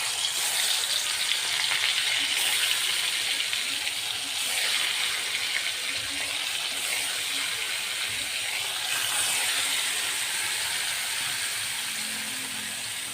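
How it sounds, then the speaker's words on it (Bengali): Fish frying in hot oil in a wok, a steady close sizzle that runs the whole time with no one talking. "আস্তে আস্তে মাছগুলো ভেজে নেই।"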